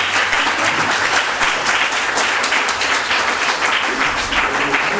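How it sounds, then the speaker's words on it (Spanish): Strong, steady applause from a room of listeners after a student presentation, dense and continuous for about five seconds with no break. "un fuerte aplauso entonces."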